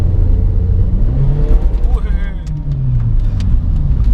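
A Suzuki Swift GT2 with an upgraded stainless steel exhaust rumbles and revs close by, a deep throaty exhaust note rising and falling under a brief voice.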